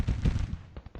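Musket volley fire in the video game Grand Tactician, a Civil War battle setting: a dense, rumbling crackle of many shots merging together, then a few separate sharper reports trailing off near the end.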